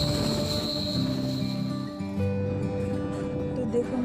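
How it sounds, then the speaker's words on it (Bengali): A passenger train pulls away and rolls along the rails in the Alipurduar area, heard from on board as a steady rumble with droning, whining tones that shift as it moves. "এতক্ষণ বসে থাকার পর আমাদের ট্রেনও ছেড়ে দিল"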